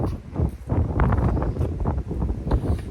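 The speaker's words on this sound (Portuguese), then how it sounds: "Tá ventando muito." Strong wind buffets the microphone in a continuous low rumble with gusty surges throughout, loud and close, with no voice heard.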